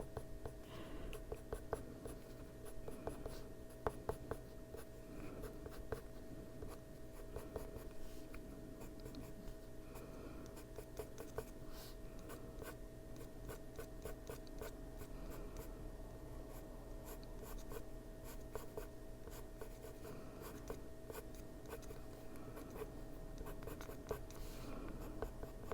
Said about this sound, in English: Just turning the pencil so I can keep a sharp edge on my tiny little marks I'm putting on the paper.